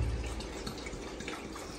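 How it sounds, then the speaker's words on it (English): Water is poured into a home aquarium that has rocks in it, giving a steady splashing fill with an even level throughout and no talking. "And time to add some water."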